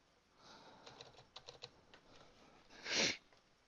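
Several quick keystrokes on a computer keyboard while setting up a Minecraft Spigot/Bukkit server, spaced in short bursts, then a louder burst of clatter near the end, close and clear with no talking.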